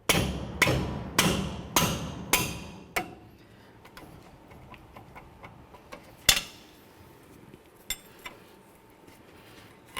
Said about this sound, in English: The next thing we need to do is remove our 2 18mm mounting bolts for our caliper.